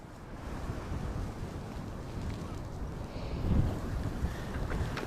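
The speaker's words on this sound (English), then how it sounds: "I wish I was a little more out of the wind for this project." Wind blows outdoors, a steady low rumbling buffet against the microphone with brief stronger gusts and no talking.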